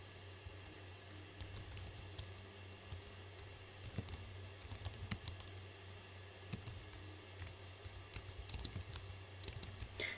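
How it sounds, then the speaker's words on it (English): Notes are typed on a computer keyboard during car engine tuning work, a faint, quick patter of key clicks in uneven bursts with brief pauses, over a low steady electrical hum. "You can type in all the stuff that you did here."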